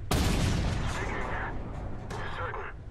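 A tank cannon fires in the PS4 game Armored Warfare as a loud, booming blast that rolls on for over a second, followed by a second, softer rumbling burst about two seconds later.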